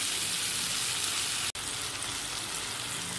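Potatoes frying in a pan for a cauliflower and potato (gobi aloo) fry give off a steady, loud sizzle with no voices, broken only by one abrupt instant of silence halfway through.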